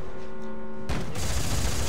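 Gunfire from a weapon in the video game Dead Space 3 erupts abruptly after a brief hum, a loud, dense burst of rapid shots that keeps going to the end.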